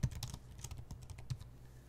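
Quiet typing on a computer keyboard while entering header text in a Salesforce analytics tutorial: a quick run of soft key clicks, closely spaced and irregular, trailing off near the end.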